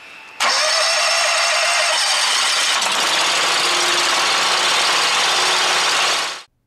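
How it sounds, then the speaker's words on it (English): A BigFoot BF300 agricultural baler's engine, throttle set mid-range, fires up abruptly and runs at a loud, steady drone for about six seconds before cutting off, with no talking. "To eject the bale, turn the engine on again."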